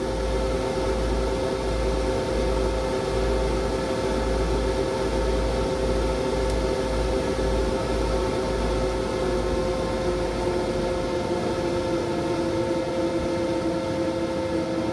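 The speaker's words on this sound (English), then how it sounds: "Hear the fans shutting off slowly." Cooling fans in a 12-volt lithium battery box inside a camper, winding down with a steady whirring hum and a low pulsing drone that fades toward the end.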